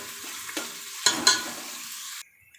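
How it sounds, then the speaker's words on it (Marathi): Chopped onion frying and being stirred in a hot pan for an egg biryani, a steady sizzle with a few sharper scraping stirs, fairly close, ending abruptly. "तर आता इथे हा जो कांदा आहे तो मी परतून घेणार"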